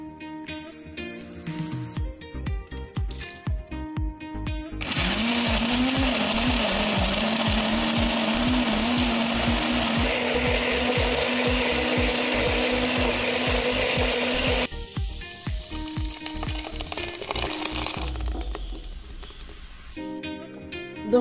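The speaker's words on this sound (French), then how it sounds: "Donc là, on va mixer le tout." A blender purees oranges and lemons for homemade jam, running loud and steady for about ten seconds between shorter stretches of clattering and rubbing handling noises; no talking.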